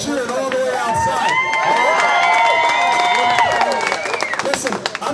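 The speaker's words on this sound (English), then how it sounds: "I can hear you guys cheering all the way outside." A crowd at an outdoor protest rally against mail-in ballots in Bodman Park, Middletown, cheers and shouts loudly, raised voices overlapping for several seconds.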